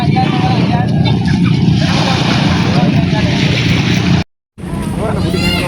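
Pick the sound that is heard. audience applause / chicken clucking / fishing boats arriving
fishing boats arriving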